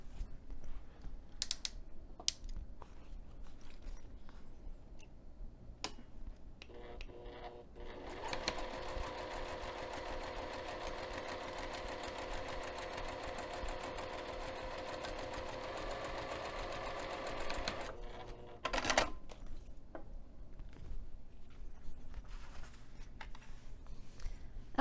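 A sewing machine topstitches the lower edge of a fabric binding piece at a 3 mm stitch length, a fast, even mechanical whir lasting about ten seconds, bracketed by quiet clicks and fabric handling.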